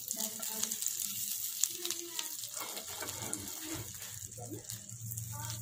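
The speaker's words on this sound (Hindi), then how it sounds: "ये मैंने 1 बड़ा टेबल स्पून मक्खन का गरम किया" A tablespoon of butter heating and sizzling in a pan, steady close frying hiss with light crackles and some stirring clatter, while faint voices sound in the background.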